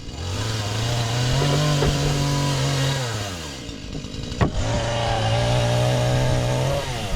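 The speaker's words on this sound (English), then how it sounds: "running the chainsaw, doing some cleanup right now from our big mess that we have." A chainsaw runs steadily close by during storm-damage cleanup, its engine droning at a high, even pitch, dropping briefly around the middle before revving back up to full speed.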